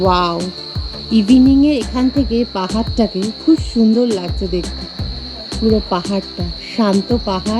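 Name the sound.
crickets chirping in the evening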